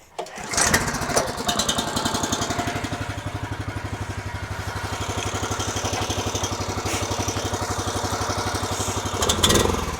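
A farm vehicle engine starts up and drives off pulling a trailer, its steady chugging mid-range rumble close and continuous for the whole stretch, with a brief clatter near the end.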